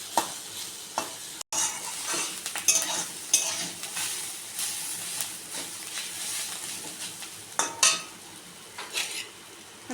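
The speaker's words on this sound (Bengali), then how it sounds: "এটাকে একটু ভালো করে ভেজে নিতে হবে বন্ধুরা।" Egg chow mein noodles being stir-fried in a pan, a busy crackling sizzle broken by repeated spatula scrapes and metal clanks against the pan, close and moderately loud with no speech.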